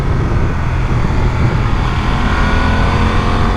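A BMW F900 R twin-cylinder motorcycle runs loud and close, its engine drone blended with heavy wind roar in a steady, unbroken blast with no voices.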